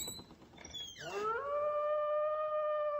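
In a Little Red Riding Hood story, a wolf gives a single long, loud howl that rises and then holds steady, heard close and alone after brief background noise.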